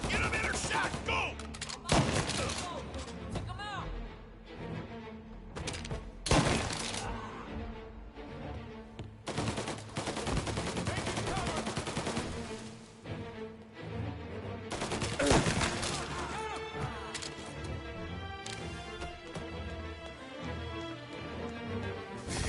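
Dense gunfire fills a shootout in the video game Mafia, with rapid overlapping shots and bursts that keep on almost without a break, loud and close, while voices shout under the shooting.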